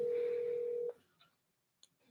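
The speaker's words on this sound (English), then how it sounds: "I can hear it ringing in the other room." A telephone rings in another room: one steady electronic ring tone lasting just under a second, then near-silence broken by a few faint clicks, all fairly quiet.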